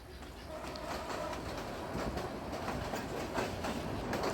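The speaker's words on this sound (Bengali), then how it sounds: "এর মধ্যে দুটি ট্রেন ক্রস করছে" Two trains cross on railway tracks near Srimangal, Bangladesh, giving a steady, fairly faint rumble and clickety-clack heard from a moving train.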